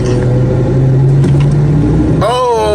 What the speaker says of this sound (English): Revving it.